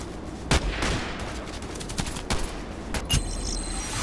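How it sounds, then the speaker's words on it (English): Bursts of rifle fire in the first-person shooter Contract Wars, a KelTec RFB carbine among the guns, with several sharp shots cracking out over a steady background of distant firefight, a few louder close reports standing out. "The guy on the right was shooting, I was shooting, and still he got us"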